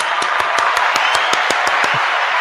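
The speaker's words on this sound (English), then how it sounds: "Let me give you some oh applause for getting that right" A single pair of hands claps about ten times at an even, quick rhythm during an interview, close and clear over a faint steady hiss, with no talking.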